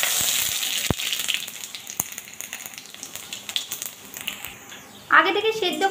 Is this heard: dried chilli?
yes